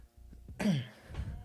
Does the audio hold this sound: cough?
yes